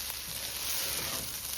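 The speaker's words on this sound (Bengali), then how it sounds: "অনেক সুন্দর করে ভাজা নিচ্ছি, সাথে একটু ঘি দিয়ে দিচ্ছি" Rice grains frying in ghee in a pan, a steady close sizzle with soft crackling throughout, quiet and alone without talk.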